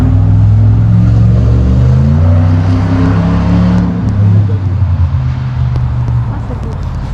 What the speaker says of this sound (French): Pas mal, petit Dodge Ram, les nouveaux 2019, V8, 5 litres 7